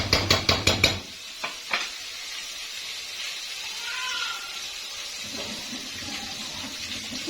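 A spoon stirs dry spices into a masala of green chillies in a hot pan, beginning with a quick run of sharp clinks against the metal, then a soft continuous sizzle and scraping with no voices.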